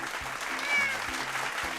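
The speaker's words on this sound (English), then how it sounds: "Where's the applause button?" Canned applause sound effect triggered from an applause button, a steady wash of clapping and cheering running continuously at moderate level for under two seconds, with low thumping noises beneath.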